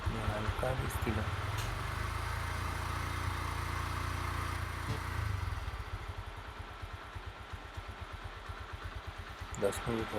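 A Mahindra Centuro motorcycle engine gets a light rev during a diesel flush, swelling briefly from idle then settling back into a steady close putter, with someone talking over the engine.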